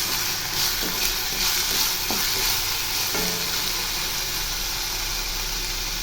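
Ivy gourd sautéing in hot oil with salt in a pan, giving a loud, continuous close sizzle with a few faint stirring knocks throughout.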